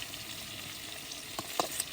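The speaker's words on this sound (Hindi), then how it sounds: "5 मिनट तक प्याज फ्राई हो चुकी है" Onions frying in a karahi for a rabbit curry give a steady, close sizzle with a few brief stirring clicks near the end, and no voices.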